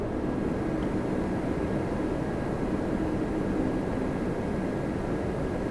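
Embraer jet at Toronto Pearson giving a steady, broadband engine roar that holds evenly throughout, moderately distant, with no voices over it.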